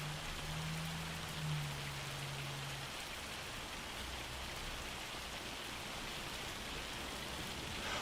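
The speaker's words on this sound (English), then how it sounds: "this is hail." Steady broadband patter of hail or heavy rain in Farming Simulator 25, a dense continuous hiss with a faint low hum early on, no talk.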